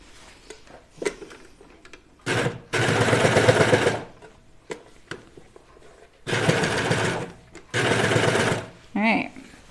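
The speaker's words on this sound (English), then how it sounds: "This is a great serger." A serger sewing machine stitches a pajama top in several loud, close bursts of rapid mechanical whirring, separated by pauses filled with small handling clicks and brief speech.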